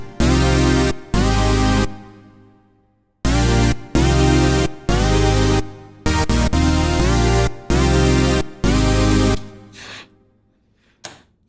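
Detuned, octave-up synthesizer chords punch through a full song mix in loud, repeated stabs with brief gaps between them, then fade out into a short quiet tail.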